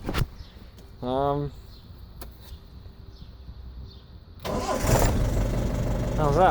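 A Ford Transit van's engine cranks and catches after a PATS immobiliser bypass, then settles into a loud, steady idle close by. Someone speaks briefly before it starts.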